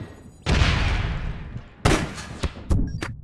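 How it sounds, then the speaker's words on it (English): Gunshots in the online shooter APB Reloaded: a sustained burst opening loud and decaying, then several sharp separate cracks close by, with no talking. "I got shot in the face."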